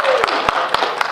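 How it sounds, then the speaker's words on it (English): An audience at a National Honor Society induction ceremony applauds the new members, a steady wash of dense clapping with a few sharper claps standing out at regular intervals. "please join me once again in applauding for our new National Honor Society members"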